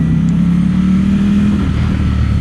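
Ducati Streetfighter V4 motorcycle engine with a throttle spacer runs loud and close, its deep steady rumble rising slightly as the throttle is twisted, with no speech.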